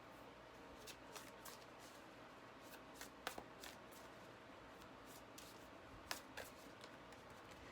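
Oracle card decks are shuffled by hand on a table: soft, close riffling and papery swishes punctuated by a few sharper taps, quiet and steady with no talking.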